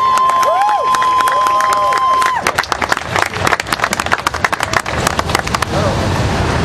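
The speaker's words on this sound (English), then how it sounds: "let's have another round of applause for these guys" At an outdoor freedom-movement gathering, a speaker's amplified voice gives way to crowd applause with sharp individual claps and cheers, loud and close for several seconds before thinning out.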